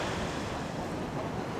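Stormy sea waves crashing on the shore, a dense continuous roar of surf mixed with gusty wind buffeting the microphone.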